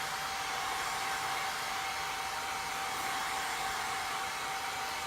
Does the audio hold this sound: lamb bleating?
no